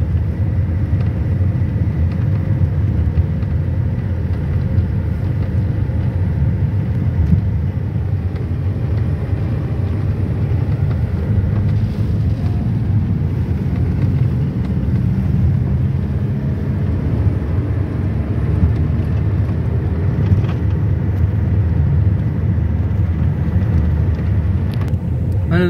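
Busy bazaar in Mastchoh with cars lined along both sides of the road. A steady, dense low rumble of engines and traffic runs unbroken throughout, with no clear voices on top.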